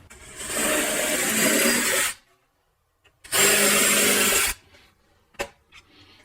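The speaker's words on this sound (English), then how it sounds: "And the clearance drill." Power drill spinning a clearance drill bit into a curvy seat mount, two sustained loud whining bursts of about two seconds each separated by a pause, followed by a few faint clicks and knocks.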